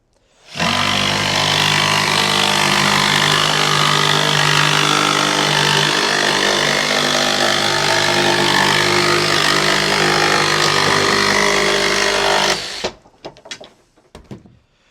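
A Makita DJV184Z cordless jigsaw with orbital action on rips through material in one continuous, loud, buzzing cut of about twelve seconds, then stops abruptly and leaves a few faint rattles.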